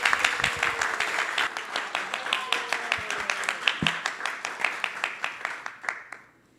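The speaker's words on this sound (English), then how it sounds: "let's give a round of applause to Monisha" An audience at a Vyasa Puja celebration claps for Monisha, a 16-year-old student musician. The applause is steady and fairly close, a dense wash of many hands that holds for about six seconds and then dies away quickly.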